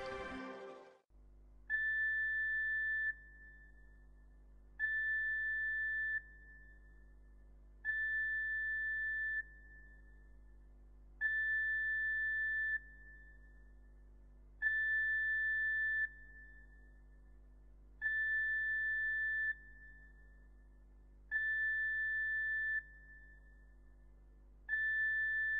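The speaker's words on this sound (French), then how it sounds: "Ce signal engage le début de l'évacuation du navire et prépare l'ensemble du personnel à un éventuel abandon du navire." The evacuation alarm aboard the ferry Piana, on the Marseille–Corsica crossing, sounds as a series of about eight evenly spaced long electronic tones over a low steady engine hum, with no talk.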